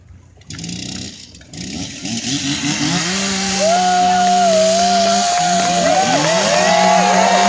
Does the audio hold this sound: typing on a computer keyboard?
no